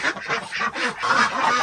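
Muscovy ducks roosting up high in a barn give a run of hoarse, breathy calls, several overlapping in quick succession, close and fairly loud with no talk.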